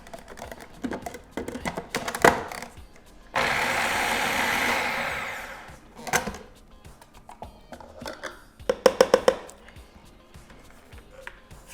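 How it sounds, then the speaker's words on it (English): A kitchen food processor chops green onion in a single loud whirring burst of about three seconds, set among clattering knife taps and dish handling before and after. "add that to my food processor as well"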